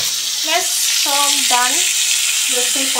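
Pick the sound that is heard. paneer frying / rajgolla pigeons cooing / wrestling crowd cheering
paneer frying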